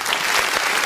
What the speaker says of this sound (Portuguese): Vamos aplaudir o nome santo do Senhor Jesus